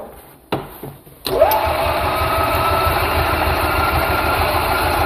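After a tune-up, a golf cart engine cranks with a few clunks, then catches and settles into a steady, loud idle with a rapid, even chug, heard close up.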